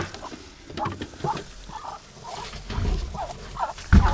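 Muscovy ducks hiss and mutter in short breathy calls, several birds close by, with scuffling and a sharp knock near the end.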